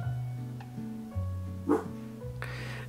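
A small dog gives a few short, high yips and barks in quick succession from close range, irregular and fairly quiet, with no talking over them.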